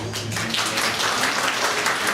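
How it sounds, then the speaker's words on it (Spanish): An audience at a talk on accelerated learning breaks into applause, a dense wash of many hands clapping steadily throughout, fairly loud and close. "Aquí empieza este aplauso"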